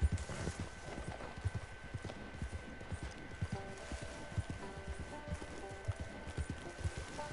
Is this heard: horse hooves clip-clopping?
yes